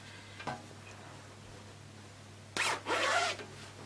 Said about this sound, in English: This is the zip.